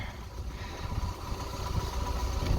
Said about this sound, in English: now give it some revs